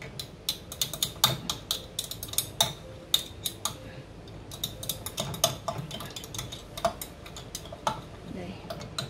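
Stirring blue dye in a small jar: quick, light metallic ticks and clinks of a utensil against the jar, close and irregular, with a person talking underneath throughout.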